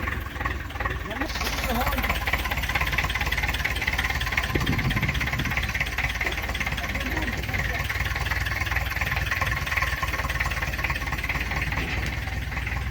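A small homemade tractor engine idles steadily with a continuous, throbbing rumble for the whole stretch, and faint voices come through now and then.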